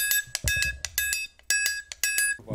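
A scraper played as a rhythm instrument gives a steady run of short, squeaky, ringing scrapes in quick bursts with brief pauses between them, close and clear with no voices.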